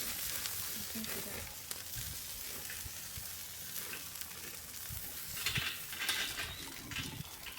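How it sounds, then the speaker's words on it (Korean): Clams cooking in a pot at a seaside campsite hiss and sizzle softly with a steady bubbling crackle, faint and close, with quiet voices in the background. "끓는다."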